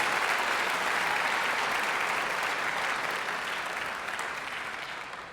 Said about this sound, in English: Give Coach another round of applause